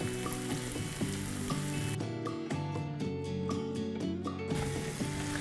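Leftover idli stir-fried on a hot tawa, a dense continuous sizzle with quick rhythmic scraping strokes of a spatula in the middle, up close with no talking.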